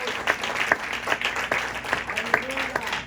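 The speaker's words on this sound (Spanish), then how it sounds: "Dale un aplauso al Señor" A church congregation claps and applauds together in a hall, a loose run of sharp claps under a speaking voice, moderately loud and close.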